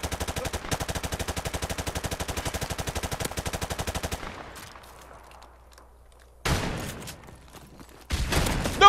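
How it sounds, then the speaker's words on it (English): Rapid automatic gunfire in a melee-only video game match, a long dense rattle of evenly spaced shots that stops, then after a near-silent gap resumes in two loud short bursts. "That's a shotgun blast!"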